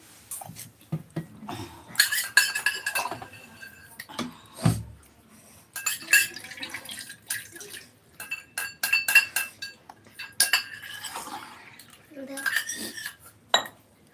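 A drinking glass clinks and rattles repeatedly among other dishes in a home setting, with bursts of bright chiming knocks and brief voices in between.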